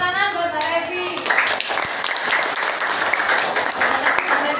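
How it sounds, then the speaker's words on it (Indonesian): A group applauds for Mbak Evi after a teacher-training session on differentiated learning, dense clapping running throughout with some voices mixed in. "Tepuk tangan buat Mbak Evi."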